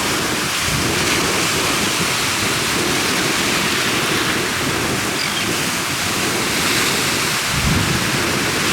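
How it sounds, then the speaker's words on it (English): Seaweed-laden ocean waves break steadily at Siesta Key Beach on the Florida coast, making a loud, continuous roar of surf and wash with no pauses. "So look at all the seaweed in those waves when they break."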